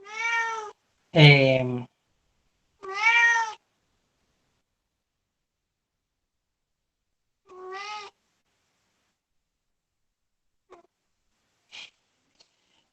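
A house cat meows several times, wanting to be let outside, with short harmonic cries spaced across the stretch and a brief hesitant voice mixed in, then fainter little sounds toward the end.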